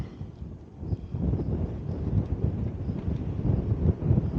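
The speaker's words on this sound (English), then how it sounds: "Man, it's kind of windy." Outdoors beside a barn, steady wind buffets the microphone with a low, gusty rumble that swells slightly and keeps going throughout, with no voices.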